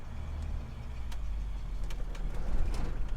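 A low-mileage 1970 Ford F100 pickup pulls away as the clutch is let out, starting off in second gear. Its engine gives a steady, close rumble for about three seconds, with light clicks on top and no speech.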